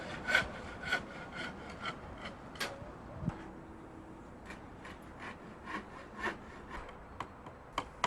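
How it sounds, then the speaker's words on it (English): A hand saw cuts through timber stakes in rhythmic back-and-forth rasping strokes, close and clear, with a short pause midway before the steady sawing resumes. "start by cutting several lengths of timber stakes."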